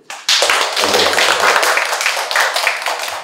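An audience at a book talk bursts into applause to welcome a poet, the clapping starting abruptly, staying close and lively, then thinning toward the end.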